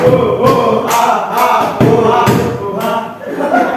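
A classroom group performs the Tepuk Papua clapping rhythm, a loud run of sharp, roughly evenly spaced claps from many hands, with chanting voices blended into the beat.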